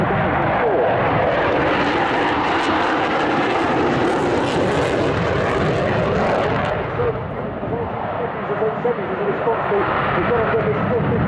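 A Polish Air Force MiG-29 fighter jet roars loudly and continuously during an airshow display at RIAT 2012, a dense, rushing engine noise that dips briefly before surging again.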